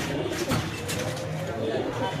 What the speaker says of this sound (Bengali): দর্শক এখানে আছে একটা পাইট রেসার মাদি কবুতর